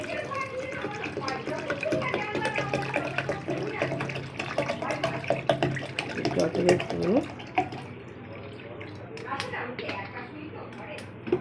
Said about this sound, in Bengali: এবার মেশাবো ঠান্ডা জল